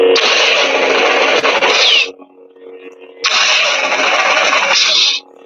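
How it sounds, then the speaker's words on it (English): A lightsaber lock-up effect plays twice from a speaker: a loud, harsh, crackling buzz of about two seconds, a short pause with a low hum, then a second burst of the same length cutting off sharply. "the sound right as the saber's beginning to go into lockup with something"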